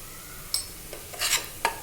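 Spoon stirring dal khichdi with coriander powder and garam masala in a pan, giving a few soft scraping strokes with light sizzling, close and alone.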